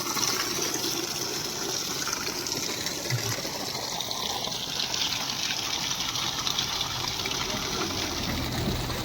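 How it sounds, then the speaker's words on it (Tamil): A steady, continuous rush of water gushes and splashes without pause, fairly close, with no other clear sounds. "அமுத்து பைப்பில் பார்த்தீங்கன்னா தண்ணி ஊற்றிட்டுருக்கு தானாகவே ஊற்றிட்டுருக்கு"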